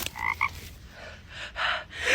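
A frog found outdoors in dry weather gives two short, close croaks in quick succession, followed by softer breathy rustling.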